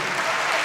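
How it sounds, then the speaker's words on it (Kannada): Brief burst of dense clapping from an audience at a Kannada language cultural programme, loud and continuous with no pauses. "ಒಂದು ದೊಡ್ಡ ಚಪ್ಪಾಳೆ ಬರಬೇಕು"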